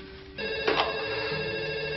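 A telephone rings in a house in a French thriller film, a steady electronic ringtone repeating close by and fairly loud, with no voices over it.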